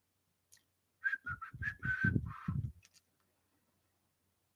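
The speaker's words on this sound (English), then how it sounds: "I'm whistling." A person whistles a short melodic phrase of several distinct notes, fairly clear and close, with near silence before and after.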